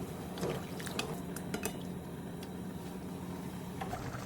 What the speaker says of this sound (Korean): 그 다음 물 2컵을 넣고 가볍게 한번 섞어준 뒤 센 불로 끓여주세요.